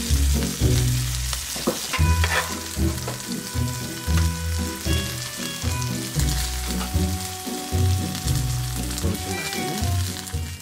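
Minced garlic hits a Costco tomahawk steak searing over high heat, a loud close sizzle and crackle under a steady rhythmic background of music, with no voices.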